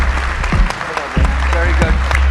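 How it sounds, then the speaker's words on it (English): Audience applause at the close of a panel discussion in a conference room, steady clapping from a seated crowd with low thumps and voices talking over it nearby. "A warm round of applause for our excellent guests and a great discussion."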